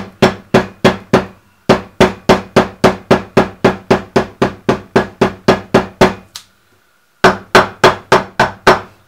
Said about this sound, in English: again it can all be hammered down, including the roll, to flatten it down